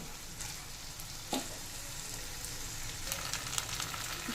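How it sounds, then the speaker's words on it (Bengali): Rice frying and being stirred in a pan for saffron pulao, a soft, steady sizzle close by with occasional clinks and scrapes from the spoon and no talking. "নেড়ে চেড়ে চালটা একটু ভেজে নিয়েছি"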